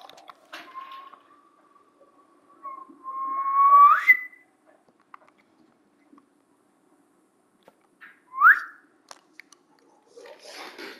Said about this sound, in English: As YouTube knows though, I can whistle.